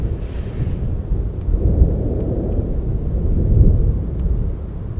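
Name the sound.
thunder rumbling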